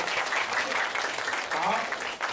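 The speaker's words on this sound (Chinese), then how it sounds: "我们就以这最热烈的掌声来欢迎我们房汉斌老师" An audience at a science magic show welcomes a teacher with warm applause, a dense, sustained clapping throughout at a moderate distance, with a few voices mixed in.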